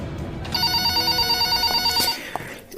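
A telephone rings with a rapid, trilling bell in a steady repeating pattern, loud and close, then stops abruptly as it is picked up.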